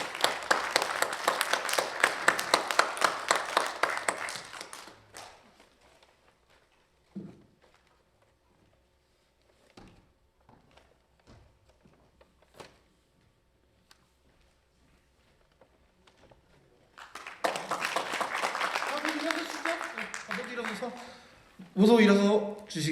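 An audience at a Korean national anniversary ceremony welcomes a speaker with a dense burst of clapping, then falls quiet apart from scattered taps before a second long round of applause swells up and a voice cuts in at the end.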